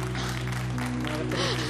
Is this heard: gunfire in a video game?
no